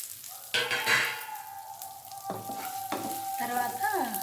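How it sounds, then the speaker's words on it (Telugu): Urad dal sizzles as it fries in a pan with oil, with a soft crackle broken by a few clinks and scrapes of a spoon stirring, close up and fairly quiet. "మినపప్పు కూడా వేసేసాను"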